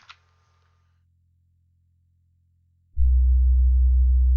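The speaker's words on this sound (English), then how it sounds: "Here's our sine wave." After a short blip and a faint low hum, a loud, steady low-pitched pure synthesized sine wave tone starts suddenly and holds evenly to the end.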